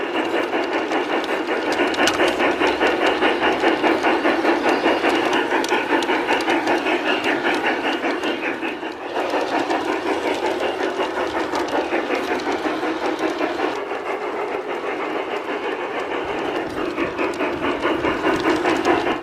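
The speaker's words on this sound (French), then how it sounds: "les trains sillonnent le jardin sur plus de 750 mètres de longueur" A miniature garden train rumbles steadily along its outdoor track with a continuous clattering hum and faint hiss, staying close and fairly loud throughout.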